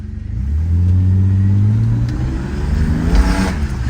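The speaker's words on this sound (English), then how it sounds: "6-cylinder, this has some power" A 1990 Mercedes-Benz 300E with a six-cylinder engine revs up loudly from a standstill in a driveway, its deep drone climbing and swelling before it eases and then rises again near the end.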